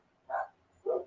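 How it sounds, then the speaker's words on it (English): Two barks from one of several dogs outdoors, spaced apart at moderate distance, with quiet between them. "Dogs are going crazy out there."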